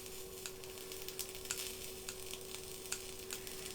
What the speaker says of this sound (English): it gives you a cool sizzle noise